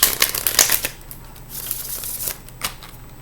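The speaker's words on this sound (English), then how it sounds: "Let me get one more shuffle" A deck of cards is riffled and shuffled close up, with quick crisp flutters bunched at the start and a few softer bursts afterward, heard alone with no talking.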